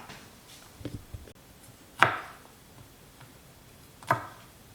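A knife chops the woody base off a vegetable for pasta primavera, giving two sharp, close cuts a couple of seconds apart with a few softer knocks before them, with no talk.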